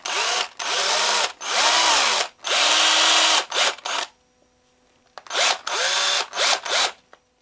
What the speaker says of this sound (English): I'm just drilling in some nostrils here, just for added detail.